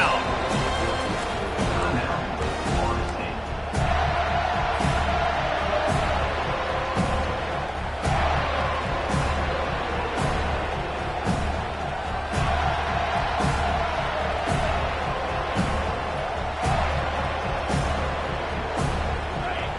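A home crowd at a college football game roars and cheers steadily in a large stadium during a third-down defensive stand, a sustained wash of noise with commentary over it.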